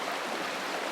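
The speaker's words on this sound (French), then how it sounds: "vous avez le bruit, le clapotis de l'eau qui" Water lapping and trickling in a woodland stream, a steady close broadband rush with no voices.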